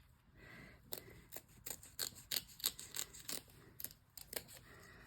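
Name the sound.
scissors snipping a rough spot on fabric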